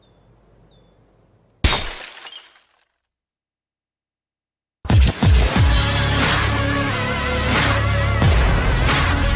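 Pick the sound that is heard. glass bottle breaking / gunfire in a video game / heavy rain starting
glass bottle breaking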